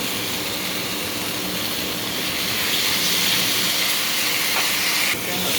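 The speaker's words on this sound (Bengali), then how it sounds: "মুরগিটাকে আমরা দিয়ে দিলাম" Chicken sizzles steadily and loudly in a hot pan on a gas stove, a continuous hiss, with no talking.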